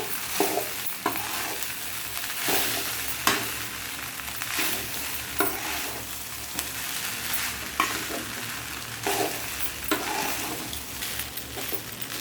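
Cooked rice is stirred and mixed into carrots in a hot frying pan, a steady close sizzle broken by repeated scraping strokes of a spoon every second or so, with no voices.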